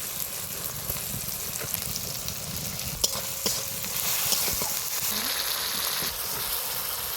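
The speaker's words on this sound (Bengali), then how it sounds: "এবার কেটে রাখা টমেটোটা দিয়ে দিব। ভালো করে নাড়িয়ে নিব।" Tomato and spice masala frying in a pan for a koi fish curry, a steady close sizzle with scraping stirs and a few sharp clinks against the pan.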